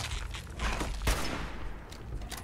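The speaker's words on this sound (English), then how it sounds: "Hardened sniper rifle it is. We quickscope him to death." A hardened sniper rifle firing in Fallout 4: one heavy, booming shot rings out over a dense, continuous wash of game noise and gunfire, loud and close.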